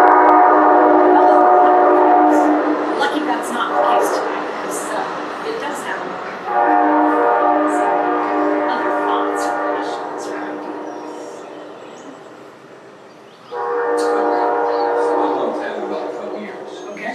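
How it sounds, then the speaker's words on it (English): A freight train sounds its horn in long, loud, sustained blasts, three in all, the middle one fading before a final strong blast. "We get a freight train."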